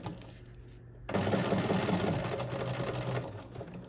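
A sewing machine runs steadily while stitching a seam on a geometric hoodie, starting abruptly after a quiet second and continuing as a loud, close, even mechanical whir.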